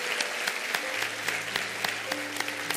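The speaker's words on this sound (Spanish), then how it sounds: "Dale un aplauso, Señor." Church congregation claps during a pastor's sermon, steady broadband applause from a crowd filling the space, with a few tonal notes from an instrument or hum underneath.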